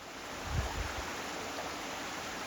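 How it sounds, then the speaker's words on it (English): Small river flowing over a little waterfall, a steady broadband rush of water with a brief gusty thump near the start, even and moderately loud. "So a little waterfall there and some waves for the ducks to enjoy themselves."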